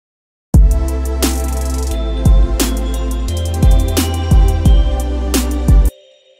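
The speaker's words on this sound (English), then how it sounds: "So then I added the same bell pattern that I used before." Bright synth bell notes repeat in a pattern over a heavy bass-and-drum UK happy hardcore beat made in FL Studio, starting abruptly and cutting off near the end.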